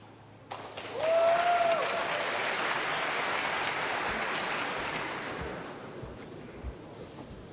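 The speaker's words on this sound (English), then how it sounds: "You can hear the applause from the audience." Audience applause at a snooker championship drifts over from the neighbouring table, rising suddenly after a short tone and holding as a steady, moderately distant clatter for several seconds before easing off.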